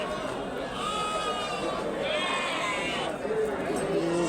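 Sheep bleat at a busy livestock market in Mukkoodal, with short wavering calls rising over a constant crowd murmur and nearby voices talking.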